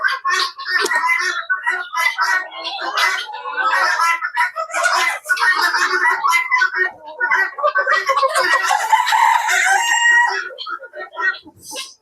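Colombian Light Brahma chickens on a farm cluck and crow close by, busy overlapping calls filling nearly the whole stretch with only brief gaps.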